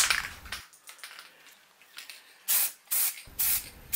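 Short close bursts of aerosol spray paint hiss onto a Dinky Toys die-cast Rolls-Royce Phantom V model during restoration, three sharp spurts near the end after quieter rustling and handling noises.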